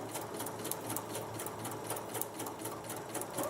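A sewing machine runs steadily, stitching a seam on a small bag, its needle clattering in a fast, even rhythm close to the microphone with no voices.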